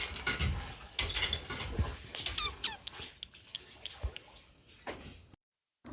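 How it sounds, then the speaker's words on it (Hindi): Water from a hand pump splashes and patters into a container for a buffalo, with uneven gushes and drips close by that stop abruptly near the end. "यहाँ पर भैंसिया के लिए मैं पानी चलाई हूँ"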